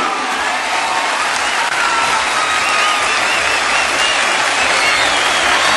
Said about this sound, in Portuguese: Vamos aplaudir, vamos aplaudir, vamos aplaudir